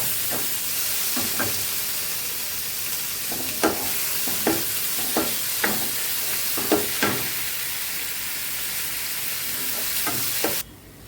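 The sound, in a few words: chopped tomato added to a frying pan, sizzling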